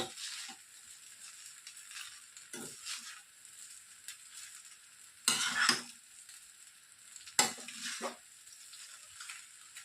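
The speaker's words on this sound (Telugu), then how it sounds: "ఇప్పుడు మనం ఫ్రై చేసి పెట్టుకున్నటువంటి గోబీని ఇందులోనికి వేసేసుకుంటున్నాను. గోబీ వేసిన తర్వాత ఒక్కసారి కలయబెట్టుకోండి." Fried cauliflower (gobi) is stirred in a pan for fried rice, with a faint ongoing sizzle and a few sharper scrapes and clinks of the spoon against the pan.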